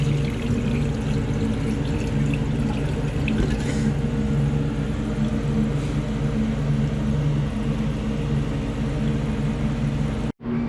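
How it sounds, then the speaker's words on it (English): A household toilet flushes with its tank lid removed, a steady close rushing of water running continuously for about ten seconds before cutting off abruptly near the end. "let's flush it with it off and see."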